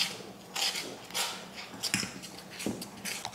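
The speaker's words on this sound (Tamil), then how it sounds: "ஊற்றிட்டு இதை கலக்கிடலாம்." Ragi flour and water mixture stirred in a vessel for ragi mudde, giving repeated scraping, scooping strokes of a utensil against the pot in bursts, close and fairly quiet, with no talking.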